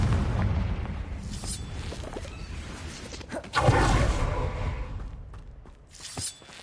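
Confringo fire spell blasting in Hogwarts Legacy on PS5, a loud booming burst that swells mid-clip over a dense rumbling game soundscape, with whooshing debris and crackle trailing off.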